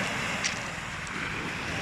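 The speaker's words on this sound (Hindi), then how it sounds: "समंदर पे आ गए, देखो आप समंदर का" Sea waves washing against the shore in Lebanon, a soft continuous surf wash mixed with wind buffeting on the microphone, moderately quiet and without distinct breaks.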